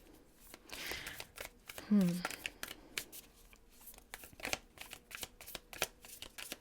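Tarot cards riffle and slap in quick bursts of shuffling, with a voice briefly speaking in the middle.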